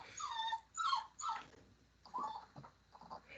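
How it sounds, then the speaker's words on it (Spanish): A dog whimpers and whines in several short, high, nasal bursts with brief pauses between, close by but fairly quiet, with no talk over it. "¿Qué le haces al perro?"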